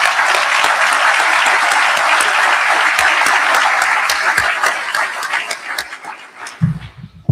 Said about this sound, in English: let's give everyone who put this incredible event together a round of applause